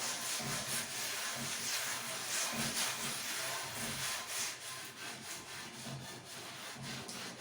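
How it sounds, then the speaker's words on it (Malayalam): A rusty iron pan is scrubbed hard with coconut husk, giving a steady, loud rasping scrape in continuous back-and-forth strokes throughout, with no talking. "എല്ലാ സ്ഥലവും അകം പുറമൊക്കെ നന്നായിട്ട് ഉരച്ച് വൃത്തിയാക്കി കൊടുക്കാം"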